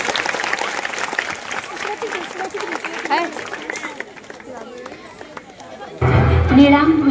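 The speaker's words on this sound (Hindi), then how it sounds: "जोरदार करताली मंच को स्वागत करूँ" Audience at an outdoor school cultural program applauds to welcome a folk dance onto the stage, steady clapping with crowd chatter beneath, before loud stage music cuts in at the end.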